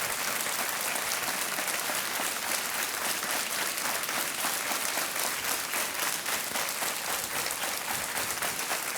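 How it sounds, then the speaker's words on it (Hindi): Studio audience applause on the quiz show Kaun Banega Crorepati after a contestant wins a prize, continuous rapid clapping filling the room at a steady, moderately loud level with no break. "तालियां बजती रहे"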